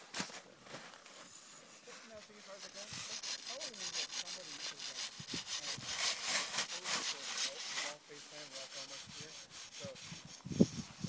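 A hand saw cuts through crusty layers of a snow block during avalanche training, giving a steady, loud scraping rasp of repeated strokes over about eleven seconds with a few sharper crunches near the end.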